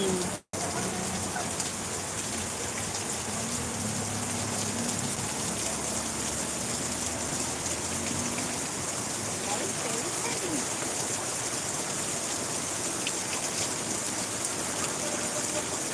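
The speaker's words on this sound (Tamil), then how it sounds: "வெளுத்து வாங்கும் கனமழை" A heavy downpour in Tiruvallur, India roars on without letup, dense spattering rain hitting hard surfaces, after a brief cut at the very start.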